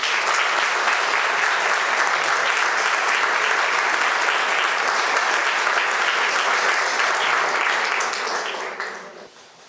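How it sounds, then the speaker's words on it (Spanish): A conference audience at a journalism panel claps steadily and warmly for several seconds, a dense even applause that fades out at the end, with no voices over it. "Un fuerte aplauso."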